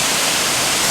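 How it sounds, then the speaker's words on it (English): Benlister Falls waterfall pouring as a dense, loud, continuous rush of water, close by and alone. "the sound of the water, just amazing"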